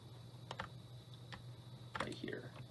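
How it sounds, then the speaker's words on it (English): Computer keyboard typing and mouse clicks in a home setup, faint scattered keystrokes and clicks in short bursts against a low background hum. "And sorry if you hear my keyboard and mouse in the background."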